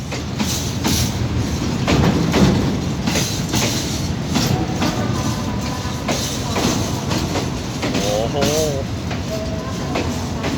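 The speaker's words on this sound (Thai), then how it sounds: "ก็คันนี้ก็จะเป็นขบวนนี้ก็จะเป็นรถสินค้าครับ ขบวนรถสินค้า ตู้คอนเทนเนอร์ครับผม" A container freight train, no. 726, rolls into Bang Sue Junction station at platform 4. It gives loud, rhythmic wheel clatter with a brief metallic squeal near the end, while voices are heard faintly.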